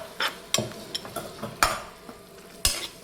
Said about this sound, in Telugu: మ్యారినేట్ చేసి ఉడకబెట్టి పెట్టుకున్న మటన్ వేసేస్తున్నాను